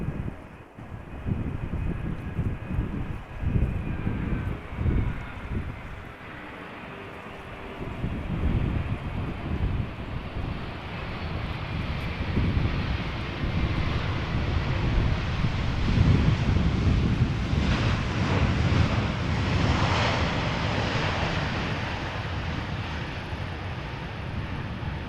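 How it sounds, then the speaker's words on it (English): A Finnair Airbus A350 jet at Amsterdam Schiphol gives a broad, steady roar that swells and lingers at a distance, mixed with wind buffeting on the microphone. "there's an A350 from Finnair going back to Helsinki"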